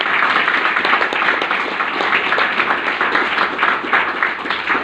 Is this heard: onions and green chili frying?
no